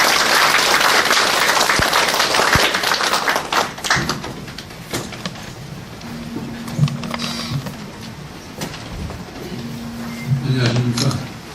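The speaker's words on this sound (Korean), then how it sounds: "큰 박수로 환영해 주시기 바랍니다." Audience at a science and culture award ceremony claps to welcome the foundation's chairman, a dense wash of applause at first that thins into scattered claps, with a voice speaking over the tail.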